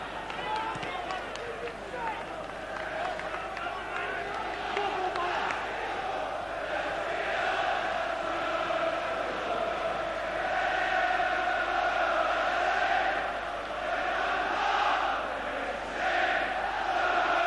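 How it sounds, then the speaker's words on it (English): Roaring football stadium crowd at a Liverpool vs Roma UEFA Cup match at Liverpool, a dense sustained chant and roar swelling in loudness, with a commentator's voice partly over it. "Crowd, I think, can almost do the commentary for us tonight."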